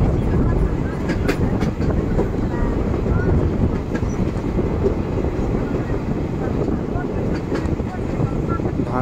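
A train rumbles steadily through green paddy fields, a loud, continuous low roar with faint rail clatter, heard from on board or close by, with no voices.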